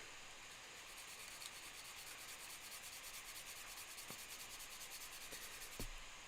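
Fine-grit sandpaper rubs steadily against a small Warhammer 40k plastic miniature in quick, even back-and-forth strokes, a soft close scratching with a few light clicks and no talking.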